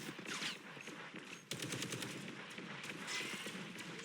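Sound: Punisher's rapid gunfire in the video game Marvel Rivals

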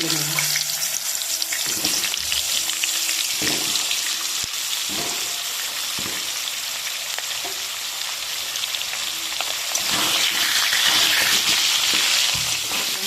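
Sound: potatoes frying in oil

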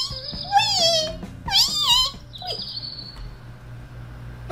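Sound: birds singing

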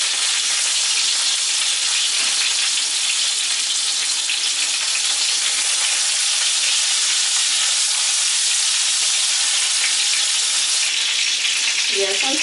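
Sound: chicken katsu cutlets frying in a skillet

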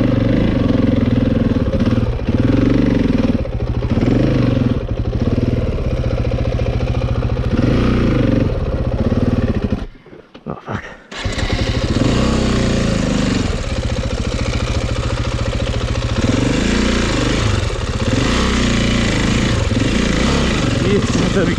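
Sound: KTM 450 EXC enduro motorcycle engine idling

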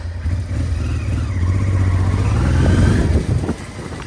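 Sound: Honda Transalp motorcycle riding off

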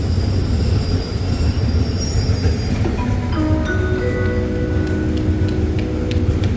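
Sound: ordinary passenger train 254 at Ban Pong station

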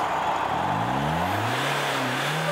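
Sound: monster trucks roaring at a monster truck rally

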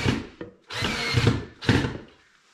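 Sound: power drill pre-drilling screw holes in plywood

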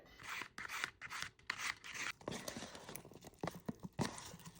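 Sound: cutting set gelatin jelly into cubes

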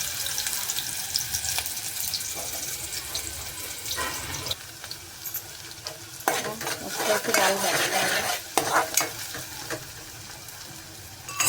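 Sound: onion frying in pan for chicken curry

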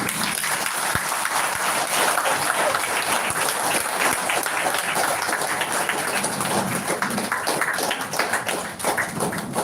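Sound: audience standing and applauding at meeting

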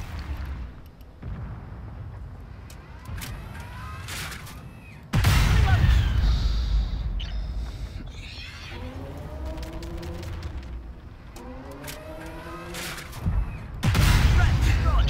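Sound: artillery fire in a video game

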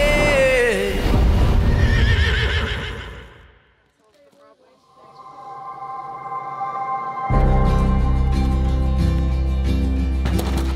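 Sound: horse neighing

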